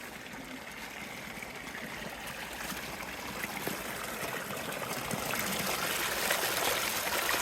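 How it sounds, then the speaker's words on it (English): Clear spring water trickling and running steadily out of the mountains at a stage stop in Nevada, a close, continuous watery babble that grows slightly louder over time, with no voices. "It's a spring, so it's good water."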